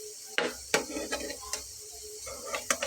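Fried potato evening snacks lifted one by one from a pan with little oil, the stove already off, giving a few soft scrapes and clinks of utensil on metal over a faint lingering sizzle.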